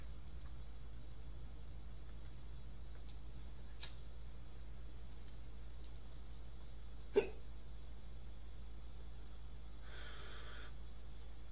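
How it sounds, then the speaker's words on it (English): A person hiccups once, sharply and close, with a fainter hiccup a few seconds earlier, against a steady low background hum and no speech. "Fucking hiccups."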